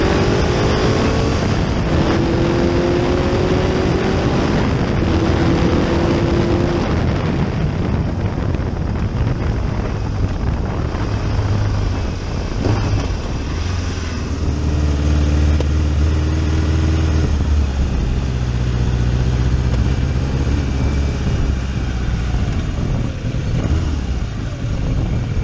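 A Laverda Jota 1000 motorcycle with a three-cylinder engine and 180-degree crankshaft roars loudly and continuously through its exhaust while riding, with heavy wind buffeting and no talking.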